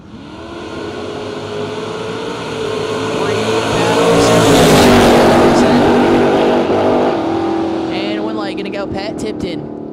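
Drag race cars, a Chevy Nova and a third-gen Camaro, roar and build to a loud peak before fading, with an announcer talking over the engines.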